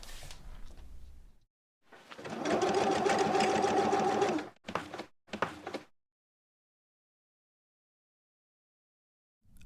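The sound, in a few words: sewing machine stitching samples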